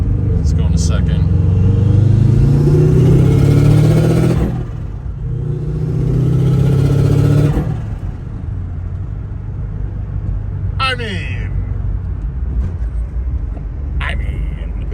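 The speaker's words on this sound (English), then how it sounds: "I love external wastegate noises" A WRX-swapped Subaru Impreza with an external wastegate pulls hard in second gear, its engine rumbling loudly as it climbs. The revs drop between pulls, and a short sharp wastegate chatter follows. Someone talks in the car.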